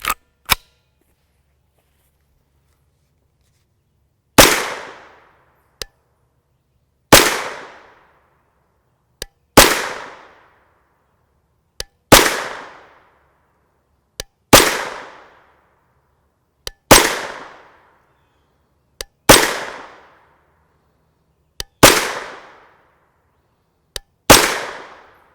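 Nine loud, sharp 9mm gunshots from 124gr FMJ nickel-coated steel-case ammunition, fired one by one at a steady pace of about two and a half seconds, each with a short ringing decay and faint clicks between shots.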